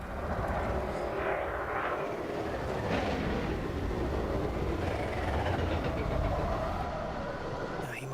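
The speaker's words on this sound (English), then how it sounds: "he's actually flying over me" A spaceship sweeps low overhead in the space game Elite Dangerous, a steady broad roar of engine rumble and hiss that swells slightly as it passes, with no talking.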